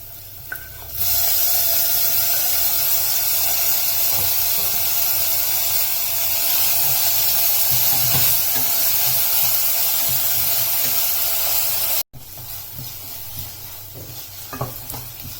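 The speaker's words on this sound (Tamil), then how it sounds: "தக்காளி இப்போ லைட்டா வதங்கிருச்சு" Tomatoes sauté in a pan for wheat rava upma, producing a loud, continuous hissing sizzle that runs for most of the span, then drops to a quieter crackle near the end.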